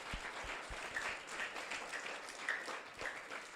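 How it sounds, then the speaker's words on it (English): Audience applause at a school graduation assembly honouring the altar and AV teams: steady, dense clapping from a crowd filling the whole stretch, with a few sharper individual claps near the front. "we need to give a big round of applause to"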